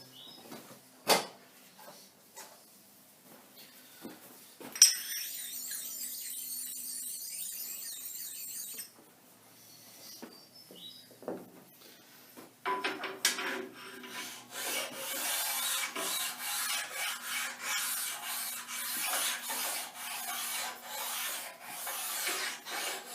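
A sharpening stone rubs and rasps along the bed of a gap bed centre lathe in close, scraping strokes, sparse at first and then more continuous and busy, with no talk over it.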